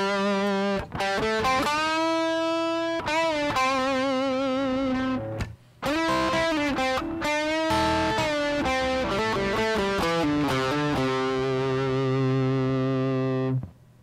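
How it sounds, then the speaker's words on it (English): Overdriven electric guitar plays the first half of the solo from a song, singing sustained notes with wide vibrato and bends, loud and alone, ending on a long held tone. "the first half of the guitar solo sounds something like this"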